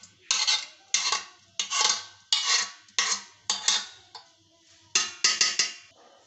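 Thick homemade cream (malai) is scraped out of a pot with a utensil, giving a series of sharp, rhythmic scraping strokes separated by short pauses, close and clear with no talking.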